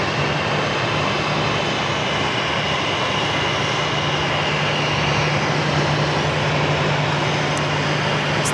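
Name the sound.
Airbus A319 airliner taxiing to the gates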